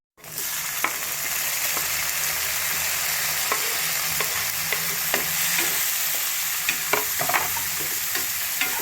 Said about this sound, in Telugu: ఇప్పుడు మనం టమాటాలు యాడ్ చేసుకుందాం దాంట్లోకి.